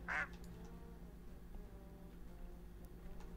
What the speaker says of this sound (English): Weird to have a pet duck, isn't it?